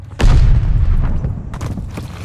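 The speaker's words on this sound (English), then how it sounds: "Grenade!" A grenade detonates in Call of Duty: Vanguard multiplayer, a loud close boom with a heavy low rumble that decays, followed by fainter secondary pops and crackles.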